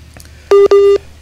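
A telephone line connecting on a call-in radio program gives two short, loud electronic tone beeps in quick succession, clean and close, with faint line noise before them.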